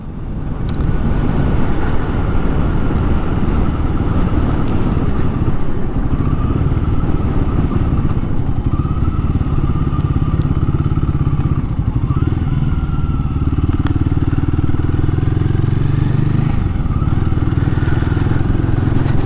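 A Royal Enfield Guerrilla 450 motorcycle on the move, its engine droning loud and steady with wind rush and a few shifts in pitch as the rider changes speed.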